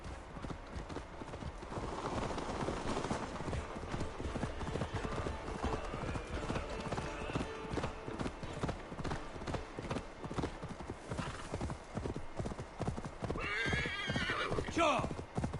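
Horse neighing and clip-clopping hooves in Assassin's Creed Valhalla, heard together with game dialogue and ambient music through most of the passage, with a sharper neigh near the end.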